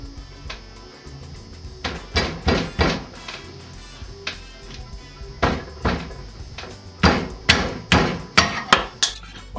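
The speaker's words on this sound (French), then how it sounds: "Maintenant on va attaquer le démontage du bourrage. Donc on va faire levier avec un tournevis." A screwdriver prying and knocking at the fork seal on a BMW R75 motorcycle fork, giving repeated sharp metallic taps and clacks in irregular clusters, close and fairly loud in a quiet workshop.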